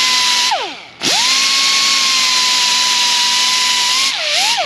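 A belt sander polishes a brake rotor from a 2015 VW Jetta, making a loud, steady high whine that dips sharply in pitch twice as the belt bears down, then recovers to a constant tone.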